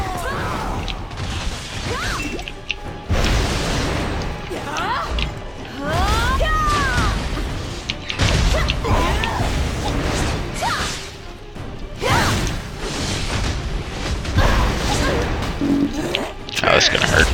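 A sorceress-style Abyssal Flame ranged fire attack in a video game, thrown by an elite enemy: repeated whooshing bursts and crashing impacts with mechanical clatter, loud and close, under continuous talk.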